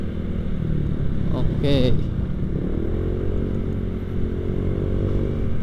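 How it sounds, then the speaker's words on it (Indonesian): A Honda Vario 160 scooter engine drones steadily at light throttle while riding, a close, constant motor rumble. A brief voice cuts in near the start and wind noise runs underneath. "Sambil gas tipis-tipis aja. Wow, Vario 160 guys."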